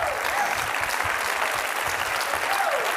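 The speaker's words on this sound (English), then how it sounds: "You ought to give the Lord a hand clap for that." A church congregation gives a sustained round of hand clapping during a sermon, a loud, dense wash of many hands filling the room evenly throughout.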